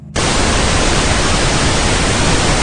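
Loud, steady white noise played as a test sound, starting abruptly and continuing as an unbroken hiss with no talk over it.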